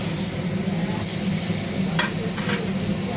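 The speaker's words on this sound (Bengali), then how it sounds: "এবার একটু আলুগুলোকে ভেজে নেব, অল্প, বেশি না" Pre-steamed potato pieces fry in a pan of oil for vegetarian khichuri, giving a steady close sizzle with stirring and a couple of brief scraping clinks near the end, and no speech.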